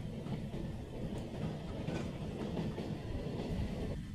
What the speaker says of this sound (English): Louie is a little green engine who works at the slate quarry on the Scarlowie Railway